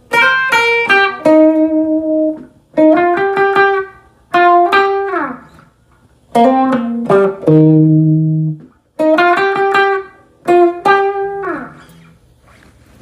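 Guitar octave riff from a reggae song, clean plucked octave notes in short phrases separated by pauses, clear and close with no talking.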